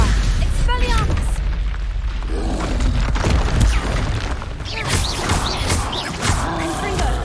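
Spell explosions and magical booms from combat in the Hogwarts Legacy video game, a dense continuous barrage of bursts and pops layered with whooshing effects and shouted spell incantations throughout.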